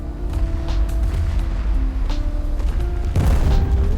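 In War Thunder, a bomb bursts on an aircraft carrier with a heavy deep boom near the end, over constant low engine rumble and earlier muffled thuds.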